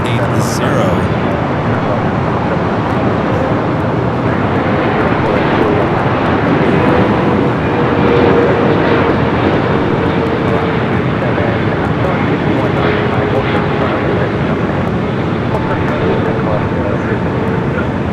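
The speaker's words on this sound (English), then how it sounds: "777-300ER coming in from Hong Kong on the One World livery" A Cathay Pacific Boeing 777-300ER in oneworld livery arrives from Hong Kong at Los Angeles International Airport, its engines giving a loud, steady broadband roar that lasts the whole stretch with a slight swell midway.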